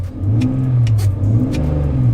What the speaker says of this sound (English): So let's give it a little subtle rev.